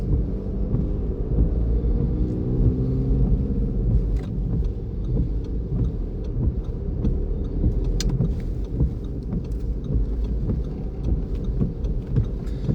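A car in third gear during a driving lesson, its engine a steady low rumble with road noise throughout, close and continuous with no talk.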